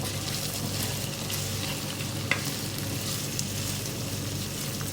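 Okra with chilies and turmeric fries in a pan while being stirred, a steady close sizzle and hiss with faint scraping ticks and no talk.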